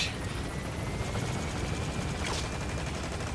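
Steady broadband rotor roar of a helicopter in the Metal Gear Solid V: The Phantom Pain video game, a continuous loud drone filling the whole clip, with a brief whoosh near the end and no talking.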